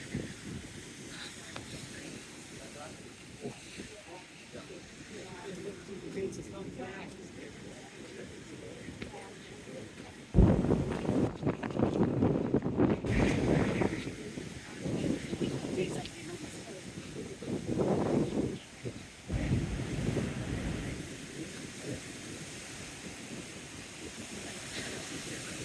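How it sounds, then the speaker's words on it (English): Strong wind buffeting the microphone on a seaside promenade at Teignmouth, low rumbling gusts that swell loudly about halfway through and come in surges, with no talking. "Oh yes, certainly got the old wind today."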